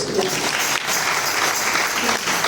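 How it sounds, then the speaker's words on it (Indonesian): Congregation applause at a church anniversary celebration, dense, continuous clapping from a large crowd filling the room, with a voice faintly heard within it. "Tepuk tangan dulu."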